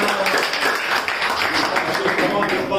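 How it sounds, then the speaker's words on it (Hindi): A crowd applauds at a Hindi-language gathering on mental health and yoga, a dense, steady wash of many hands clapping throughout, loud and continuous with no pauses. "जोरदार तालियां उनके लिए।"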